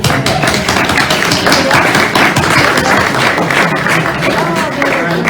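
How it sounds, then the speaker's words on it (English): An audience at a Vietnam veterans event gives a loud, sustained round of dense, steady clapping that fills the whole stretch without pause. "all of us should now make another round of applause for the Red Bull"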